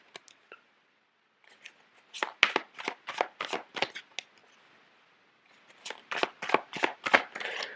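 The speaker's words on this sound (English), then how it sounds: "So let me lay out the cards." Tarot cards are shuffled and laid out, heard as two bursts of quick, crisp riffling snaps close to the microphone with short pauses between them.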